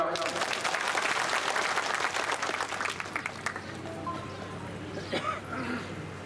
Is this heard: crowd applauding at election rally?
yes